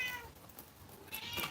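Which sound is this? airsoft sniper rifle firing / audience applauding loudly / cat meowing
cat meowing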